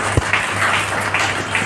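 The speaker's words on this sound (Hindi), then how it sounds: "आइए हम सब पहले समृद्ध मंच के लिए एक बार जोरदार तालियां बजाते हैं" Loud, dense applause from an audience at an award ceremony, a steady roar of many hands clapping at close range, sustained evenly through the short stretch with no talk.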